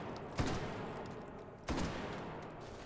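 Video game gunfire from flechette and HE rounds: two heavy, booming shots about a second and a half apart, each followed by a rolling rumble and crackle that trails off, loud and close with no voices.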